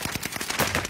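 Rapid gunfire in a video game, a quick burst of several sharp shots lasting about a second, moderately loud and with no voices.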